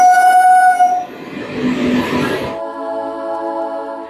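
A passenger train bound for Berhampore blares its horn in a loud sustained blast, then rumbles along with rushing noise before a second, softer horn tone carries over the running train.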